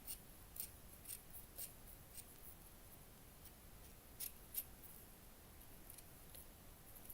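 Small scissors snip out a tiny piece for a miniature cat cafe garden room box, a sparse series of faint, crisp clicks against a quiet hiss.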